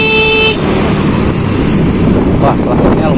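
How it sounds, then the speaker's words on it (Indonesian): Electric EGCO2 motorbike horn gives one loud, steady toot lasting about half a second, then cuts off, leaving outdoor wind noise and road ambience. "Kita coba klaksonnya."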